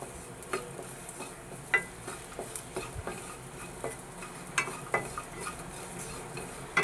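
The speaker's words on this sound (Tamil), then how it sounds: "இப்போ தேங்காய் வந்து நம்மளுக்கு இந்த அளவுக்கு நல்லா வதங்கியிருக்கு." Grated coconut stirred and sautéed in a pan for rice-flour kozhukattai, giving a faint steady sizzle broken by recurring scrapes and light clinks of a utensil against the pan, with no one speaking.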